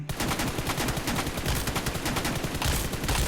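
Rapid automatic gunfire in the mobile shooter BGMI, dense bursts of shots rattling continuously and loudly throughout, with no voices.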